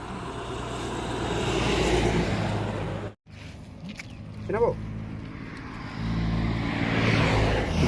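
Highway traffic beside the Mantadari Gate market: a steady roar of passing cars and trucks, with one vehicle sweeping by loudly. Voices talk over the traffic, and the noise briefly drops to near silence partway through.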